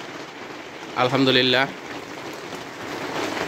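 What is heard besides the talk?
heavy rain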